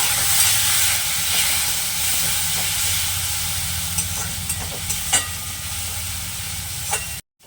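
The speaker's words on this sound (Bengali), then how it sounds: "সামান্য একটু জল দিয়ে মশলাটা ভালোভাবে কষিয়ে নেব" Spice paste being stirred and sautéed in a pan with a splash of water, a steady sizzling hiss with occasional scraping stir strokes, close and continuous, cutting off abruptly at the end.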